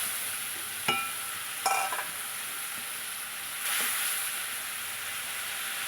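A spice paste sizzles in a very hot, smoking kadai after a splash of water, giving a continuous frying hiss broken by a few brief spatula scrapes and one surge of louder sizzling.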